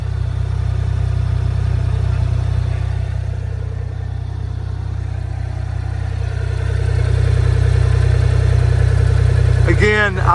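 Steady, loud idle of a 2025 CFMOTO U10 PRO side-by-side engine, close by, with a slight swell partway through and brief faint sounds near the end.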